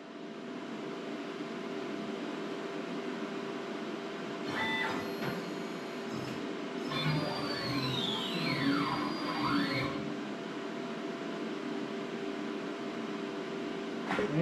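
A Langmuir CNC plasma table moves its gantry during a dry run with no cut. A steady mechanical hum runs throughout, and rising and falling stepper-motor whines come in the middle, all at moderate, even loudness.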